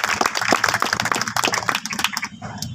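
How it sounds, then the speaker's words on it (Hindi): An audience at a small roadside meeting claps for honored gurus, a brief burst of dense, lively applause that thins out and fades near the end. "मैं चाहूंगा कि आप सब उनके लिए एक बार शानदार ताली बजाएं,"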